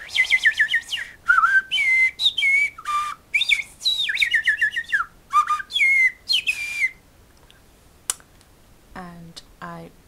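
A person whistles an imitation of a blackbird's song, a run of fluting, warbling phrases with short gaps, close and clear, followed by a few sharp chirps and quick trills near the end.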